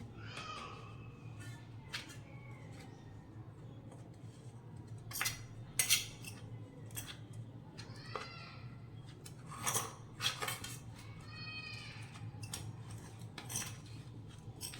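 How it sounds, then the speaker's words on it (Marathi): Ground spices, including red chili powder and turmeric, being mixed for a stuffed brinjal masala: intermittent spoon clinks and scrapes against a dish, some louder bursts, over a low steady hum with no talking. "तर अशा पद्धतीने आता हे सर्व मसाले टाकलेले व्यवस्थित मिक्स करून घ्यायचे आहेत."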